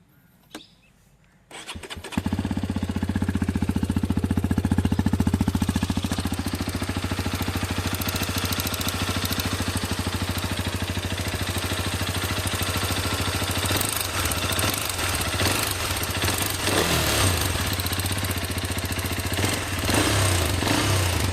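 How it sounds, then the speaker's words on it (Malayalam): A Hero Xpulse 210 motorcycle engine fires up after about two seconds and settles into a loud, steady idle close by, with a rough internal mechanical noise running through the even drone and no one talking. "എൻജിൻ്റെ അകത്തുനിന്ന് അത്യാവശ്യം നല്ല രീതിയിലൊരു സൗണ്ട് ഉണ്ട്."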